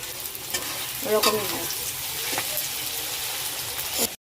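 Red meat curry simmering in a pot in a home kitchen, a soft steady bubbling and sizzling close by with faint stirring noises throughout.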